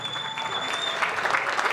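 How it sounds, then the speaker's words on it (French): A crowd at a football tournament draw applauds the flags, with a short burst of dense, steady clapping close by. "on peut applaudir les drapeaux très très fort"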